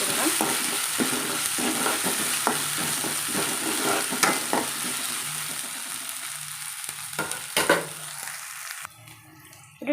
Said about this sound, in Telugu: ఇంట్లో అల్లం వెల్లుల్లి పేస్ట్ యాడ్ చేసుకుంటున్నాను